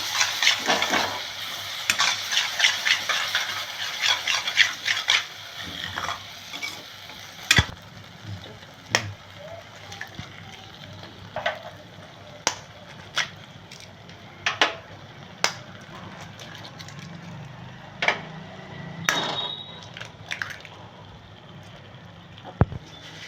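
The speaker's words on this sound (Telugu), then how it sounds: "సో ఇప్పుడు ఒక్కసారి కలిపేసి మనం ఎగ్ని బీట్ చేసేసేస్తాం." Eggs are beaten and stirred into hot oil in a pan for an egg curry, a light sizzle fading under a string of sharp, irregular utensil taps and scrapes against the pan.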